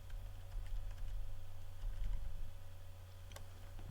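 Light clicking of computer keyboard keys sounds in a quick, uneven patter while Python code is typed, sitting under a steady low hum with no speech.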